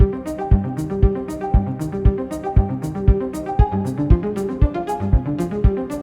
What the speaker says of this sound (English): And this is what it sounds like together with the piano, the synth, the hi-hats, and this kick drum.